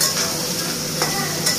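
Garlic paste sizzling steadily in a hot pan while being stirred, with a constant close hiss and a few light scraping strokes of the spoon, no voices.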